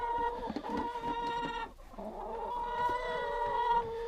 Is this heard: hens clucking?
yes